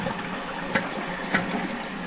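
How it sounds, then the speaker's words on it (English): Toilet cistern refilling with water after the isolation valve is turned back on, a continuous close rushing hiss of water with a couple of small gurgling splashes, no speech. "let's get this isolation valve turned back on. It's certainly filling up a lot faster."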